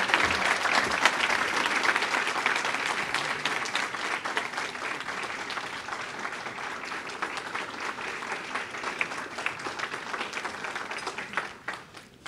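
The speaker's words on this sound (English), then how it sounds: "you can keep clapping if you want, because that's well-deserved" Warm, steady applause fills the hall at the United Way of Greater Plymouth County 100th annual meeting after a speaker's thanks, dense clapping that gradually thins and fades toward the end.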